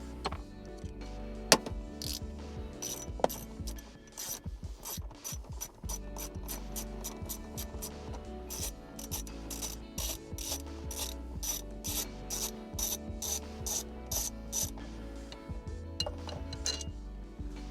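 A ratchet wrench with a T50 Torx bit works the seat bolts out of a Mini JCW. Rapid, crisp ratcheting clicks come in repeated close bursts with a few sharper metallic knocks mixed in.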